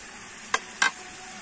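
Boiled raw mango is stirred in a pan of thickened, sticky sugar syrup for a sweet pickle, giving two short, soft scrapes over quiet background hiss.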